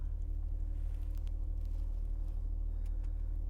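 A running car engine with a possible power steering problem, a steady low rumble with a faint whine and hum layered over it, quiet and continuous for the whole stretch without speech.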